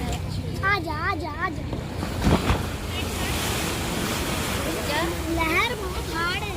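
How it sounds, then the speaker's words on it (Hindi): Sea waves rise and crash continuously with rushing wind noise on the microphone, while voices and warbling calls come and go over the loud, steady surf. "जो ऊपर लहर उठ रही है और पानी ऊपर आ रहा है"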